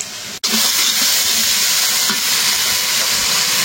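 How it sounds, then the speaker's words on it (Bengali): Ridge gourd and potato pieces drop into spices fried with ginger-garlic paste and cumin powder; after a brief silence, a loud, continuous sizzle and crackle fills the pan, with no voices. "মশলা কষাই নিলাম, এখন দিয়ে দিব সবজি।"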